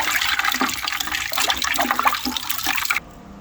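About two cups of water stirred around a cooking pot to clean it out, making steady sloshing and swishing for roughly three seconds before stopping abruptly.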